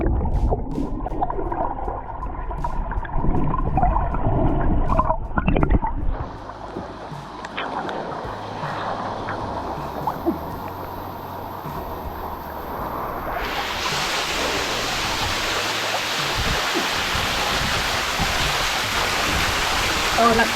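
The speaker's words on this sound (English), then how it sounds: "Stunning little waterfall here." A small waterfall in El Questro Gorge gives off a steady rushing hiss that fills the background, with a voice briefly heard early on over the water.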